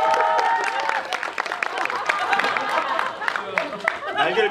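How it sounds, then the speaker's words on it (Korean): Audience applause at a Korean film premiere Q&A for the movie Microhabitat (소공녀), steady clapping from a crowd mixed with murmuring and cheering voices throughout, fairly close and sustained. "큰 박수 한번 쳐주세요."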